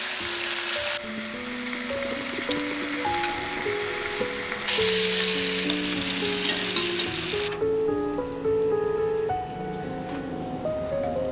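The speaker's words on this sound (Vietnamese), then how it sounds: "Mình xếp thịt qua nồi để kho luôn nè." Marinated pork laid into a pot for braising gives a steady, fairly loud sizzling hiss that runs throughout, with background music playing underneath and no talking.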